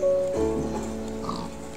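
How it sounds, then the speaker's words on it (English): A single short oink from a pig in Minecraft, heard fairly close and clear with little else around it. "let's try it out with a pig first"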